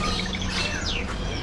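Caged birds in a pet market shop chirp and tweet in quick overlapping calls, a few sharp whistled notes rising over a busy indoor background hum.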